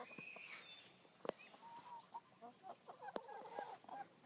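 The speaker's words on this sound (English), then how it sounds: "These are our 6 guineas." Guinea fowl chattering and clucking at a distance in soft, rapid bursts, with a few sharp clicks nearby.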